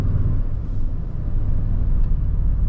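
Steady low rumble of a Toyota Sequoia TRD Off Road six-cylinder engine while driving on all-terrain tires, heard as a smooth, continuous road drone from inside the cabin.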